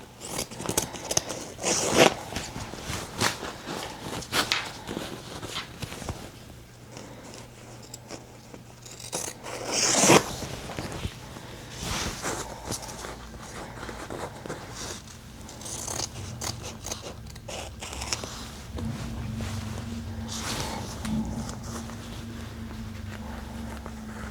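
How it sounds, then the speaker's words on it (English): Scissors cut through embroidery stabilizer backing in a few short snipping and rustling bursts, close and fairly quiet, with light handling scrapes between cuts and no talking. "I will cut the stabilizer."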